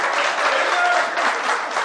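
Audience applause fills an awards show hall, a dense, steady wash of many hands clapping at full volume throughout, with no voices heard.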